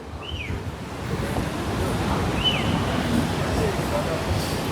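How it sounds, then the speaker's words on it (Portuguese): On Copacabana beach during a cyclone, sea waves roll and wash steadily while gusty wind buffets the microphone in a constant broad rush, with a few faint bird calls above. "O mar tá mexido por causa do vento, como vocês podem ver"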